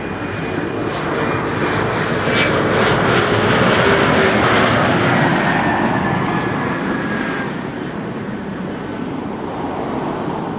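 Regional jet coming in to land at Toronto Pearson Airport, a loud broad roar of engines and rushing air that holds steady and eases slightly toward the end, with no talk.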